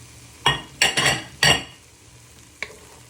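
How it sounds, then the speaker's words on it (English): Peppers stirred in a hot pan over medium heat for chorizo and tomato spaghetti: a few quick scraping, clinking stirs, close and loud, over a low sizzle, then one light metallic tap. "Just give them a little stir in"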